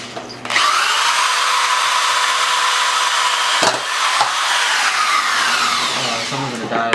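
A power drill bores holes, running loud and steady close by for several seconds with a couple of brief dips where the bit catches or eases off before spinning back up.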